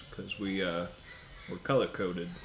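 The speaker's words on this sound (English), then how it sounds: "and you hear some crows in the background." Crows cawing outside, a few harsh, loud caws that cut in over a person's ongoing talk.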